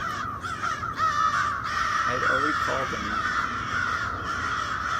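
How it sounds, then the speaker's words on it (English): Crows perched on a rooftop caw in a dense, overlapping chorus, a whole flock calling repeatedly at close range while people talk over them throughout. "That's a lot of crows."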